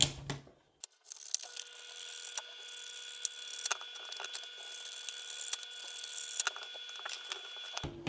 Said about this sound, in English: let's cut them out.